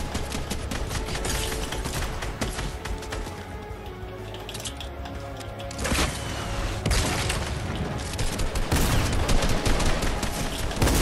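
Dense bursts of rapid gunfire and booms in Fortnite crowd the whole stretch, loud and continuous, with rattling volleys overlapping one another.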